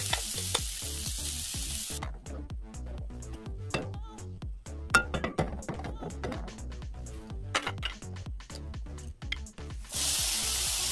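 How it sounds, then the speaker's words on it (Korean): Carrots stir-fried fast over high heat in a pan, giving a steady close sizzle broken by rapid rhythmic clatter of stirring and tossing, with pauses of plain sizzle at start and end. "당근도 마찬가지로 강불에서 빠르게 볶아냅니다."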